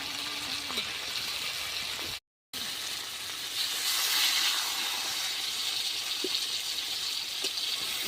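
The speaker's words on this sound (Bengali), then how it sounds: "বেগুনটাকে ভালো করে ভেজে নেব।" Eggplant pieces fry in hot oil in a pan, giving a steady, close sizzle and hiss with brief crackles that continues throughout, briefly broken by a gap of silence.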